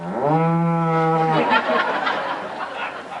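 A man imitates a cow on a ranch with one loud, drawn-out vocal moo that breaks into breathy laughter and noisy exhalation, close to the microphone.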